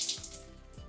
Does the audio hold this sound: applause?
no